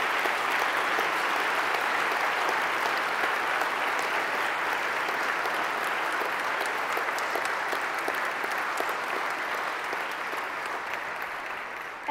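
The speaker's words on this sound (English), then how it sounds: "I would like, please, that we applaud" A large audience applauding steadily and loudly for about twelve seconds, dense continuous clapping that tapers slightly at the very end.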